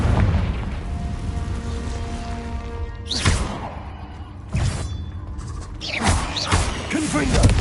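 Confringo fire spells burst in Hogwarts Legacy as several loud booming blasts in quick succession, each a sharp explosive crack with a rumbling tail, over a busy game background.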